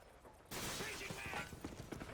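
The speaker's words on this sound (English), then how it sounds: "Changing mag." A weapon magazine is swapped in a video game, with a sudden burst of mechanical clicks, clacks and rattles that starts abruptly after a quiet moment and carries on under dense game noise.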